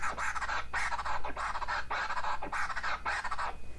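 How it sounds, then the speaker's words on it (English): Crab scratch performed on a Pioneer Rev-1 DJ controller, a run of six rapid scratch phrases, each stuttered by fast crossfader taps into a warbling, gobble-like texture, loud and up front with no speech. "This is a crab scratch."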